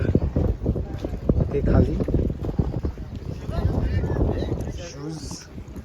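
A boat crossing from Mumbai to Alibaug gives a steady engine and water rumble with wind buffeting the microphone, heard under people talking close by throughout.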